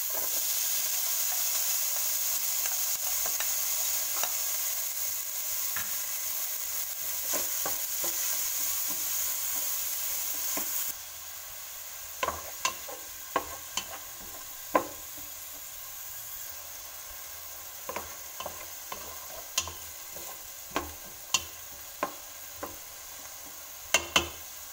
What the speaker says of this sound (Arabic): وغادي نخلي البصله تحمر